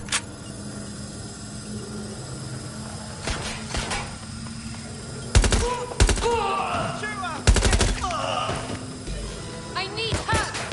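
Several sharp gunshots crack out in Watch Dogs: Legion, spaced irregularly through the middle and late part, over a steady game background hum with faint chatter.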